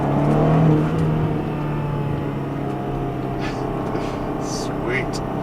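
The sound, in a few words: 2011 BMW X5 M accelerating in second gear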